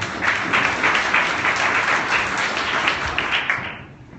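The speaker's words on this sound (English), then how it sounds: "round of applause for Brian" Applause for a speaker named Brian from EY at a graduate employment conference, a loud, dense burst of many hands clapping together that holds steady for several seconds before tapering off.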